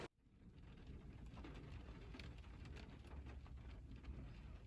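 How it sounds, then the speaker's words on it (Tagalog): Steady rain falls outside a home garden as a loud, dense patter with scattered distinct drips. It keeps up continuously with no voices over it. "Umuulan oh."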